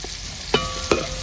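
Onions and shallots sizzle in hot oil in a pan, a steady frying hiss broken by two sharp clinks of a utensil against the pan, close and fairly loud.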